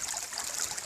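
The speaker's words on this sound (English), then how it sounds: "Look at this little rock waterfall, if you will." Clear spring water runs over a small rock waterfall on a rural Alabama spring branch, giving a steady, close, bright trickling rush with no voices.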